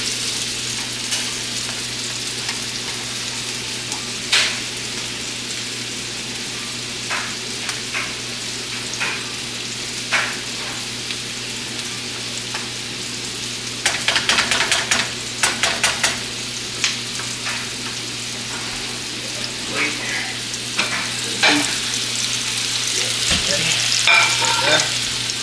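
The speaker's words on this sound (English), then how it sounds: "Just hear that sizzling from that beef," Beef sizzles and crackles steadily in a hot pan, with intermittent scraping and stirring clatter, louder bursts midway, and no talking.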